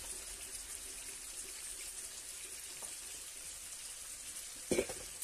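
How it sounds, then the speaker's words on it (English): Fish sizzle steadily in a frying pan with a constant hiss of hot oil, joined by a brief clatter near the end. No one speaks. "I'm just going to fry these on each side for about 3 minutes roughly"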